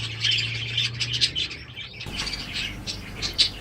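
Budgerigar chicks in a breeding box give a continuous run of high, busy chirps and squeaky calls, close and moderately loud, with a soft low hum under the first half.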